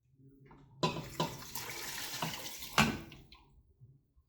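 Water pours into a pot to cover tamarind braised short ribs, a splashing gush starting abruptly and running a couple of seconds with a few louder surges, near and moderate.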